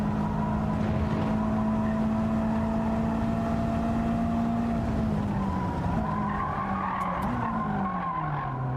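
A race car in Gran Turismo 7 drives out of a corner in third gear, its engine a steady, loud drone that dips and then climbs again, with tire skid noise and no talking.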